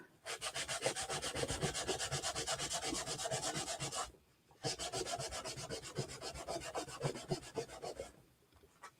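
A wipe cleans chalk paste off a stencil, giving two close bursts of quick back-and-forth rubbing of several seconds each, separated by a short pause, with no voices.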